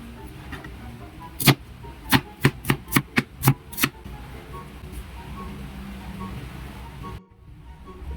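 A knife chops two onions on a cutting board, about eight sharp close strokes in a quick irregular series, then quiet background.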